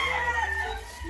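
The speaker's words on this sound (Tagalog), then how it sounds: "Mr. Baoy, ito na yung ano mo, manok mo oh." A gamecock rooster at a cockfighting venue gives a brief, close run of clucks and tonal calls over low background noise.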